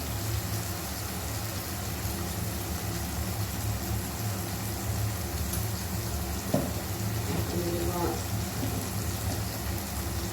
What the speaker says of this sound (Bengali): শুকনো মরিচ দিচ্ছি।